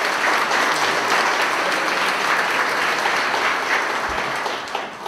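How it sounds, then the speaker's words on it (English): Members at a Walton County Chamber of Commerce meeting give sustained applause for the event organizers and ambassadors, a thick, steady wash of clapping from a large crowd that eases slightly at the end. "Let's give them all a big round of applause."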